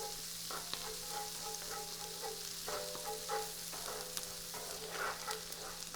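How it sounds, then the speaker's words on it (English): Chopped onions sautéing in a hot pan for a garlic shrimp Alfredo, a steady close sizzle with occasional stirring scrapes and no voices. "First thing we're going to saute is the onions."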